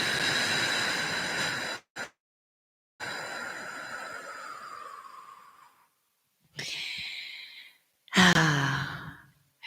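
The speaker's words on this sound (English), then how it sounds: "and breathing out." Deep exhales during a guided breathing exercise: long, close breathy sighs separated by silent gaps, with a final louder rushing breath.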